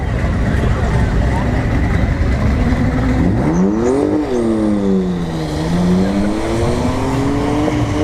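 Drag race cars launching at ShowTime Dragstrip, a BMW against another car, engines revving loud and rising in pitch as they accelerate down the strip, with a sustained roar throughout and announcer talk over it.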